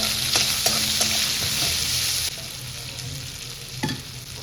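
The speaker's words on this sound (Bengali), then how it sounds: "পেঁয়াজ কুচি কুচি করে দিয়ে ভালো করে ভেজে নেব" Chopped onions frying in oil with cumin, cardamom, cloves and cinnamon for egg curry, a loud, steady sizzle with a few light spatula taps, easing slightly partway through.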